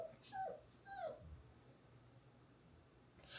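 A small dog whimpers and yips in two high, plaintive bursts near the start, then a short low whine follows before the room falls quiet.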